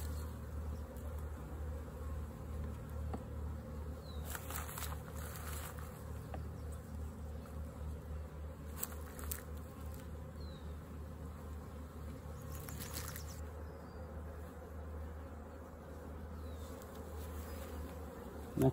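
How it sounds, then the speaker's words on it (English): A crowd of honeybees drones steadily at an open hive, a dense low buzz close to the microphone with individual bees passing nearer now and then, and no talk. "This is a lot of bees."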